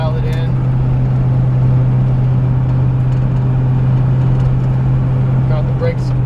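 A 1959 Chevrolet Apache truck engine runs in a steady, low, unbroken drone that carries on beneath someone talking throughout.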